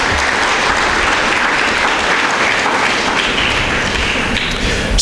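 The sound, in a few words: applause for a student at a school speech day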